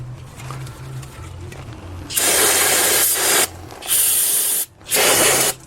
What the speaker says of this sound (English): Spraying some brake clean all of it.